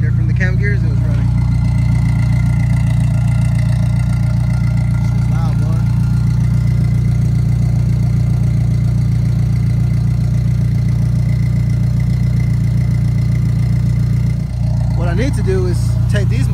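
A JDM Honda Integra with a B20 VTEC engine idles in a steady, loud, unbroken drone, with brief voices in the background at the start and end.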